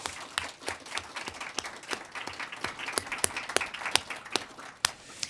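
An audience at a university history lecture gives a round of applause. Distinct, fairly sparse claps ring out steadily and rather quietly for several seconds.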